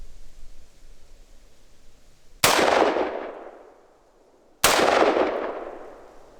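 Two loud gunshots fired at a target five feet away, about two seconds apart, each a sharp crack followed by a long decaying outdoor echo.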